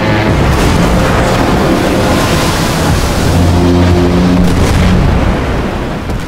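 Loud, rumbling booms of naval cruiser guns firing in a sea battle, a continuous heavy roar with churning surf-like noise throughout, no speech.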